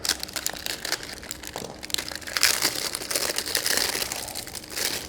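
Pedal packaging being cut and torn open, giving a close, steady run of crinkling and crunching plastic and cardboard with sharper rips partway through.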